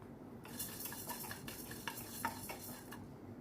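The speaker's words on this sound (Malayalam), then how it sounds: "കുറച്ച് നേരം ഒന്ന് നമുക്ക് നന്നായിട്ടൊന്ന് വറുത്തെടുക്കാം" Urad dal dry roasting in a pan for Palakkad-style idli podi, stirred with a spatula: a steady close scraping rustle with light clinks of utensil on metal, no oil, no voices.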